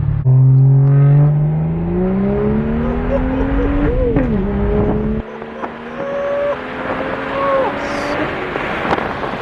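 A bagged BMW 335i E92 pulls hard through a second-gear roll, its engine note climbing steadily in pitch with a loud, close rise before settling, while a voice speaks briefly over it.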